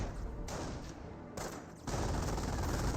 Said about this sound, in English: It's 2 guns, the 20mm cannon and the MG34.